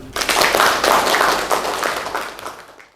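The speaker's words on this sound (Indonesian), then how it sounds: "Kita kasih aplaus buat Wahyu" Students in a health polytechnic class give a classmate a round of applause, a dense, loud burst of many hands clapping that fades out near the end.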